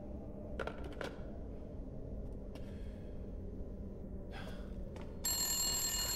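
In the horror video game Resident Evil Village, an old telephone suddenly starts ringing loudly after a few quiet clicks and footsteps, its bright bell tone sustained to the end.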